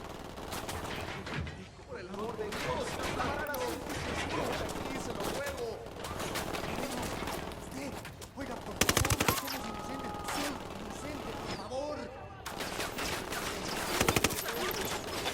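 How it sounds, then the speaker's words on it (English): Rapid automatic gunfire and single shots crackle in a firefight in the Ghost Recon Wildlands video game, with bursts coming in uneven clusters and someone speaking over the shooting. "I'm shooting these fuckers."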